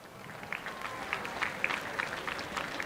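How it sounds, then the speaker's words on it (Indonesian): Quiet, scattered clapping from a ceremony crowd at the Istana Negara flag-lowering, applauding the procession returning the Red and White flag and proclamation text; distant and thin, with sharper individual claps standing out. "boleh kita beri tepuk tangan sekali lagi"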